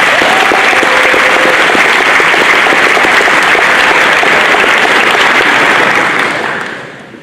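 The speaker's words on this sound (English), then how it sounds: "Let's give a round of applause to our seniors." A crowd applauds graduating seniors at a school class night, steady loud clapping sustained for about six seconds before fading out, with no talking over it.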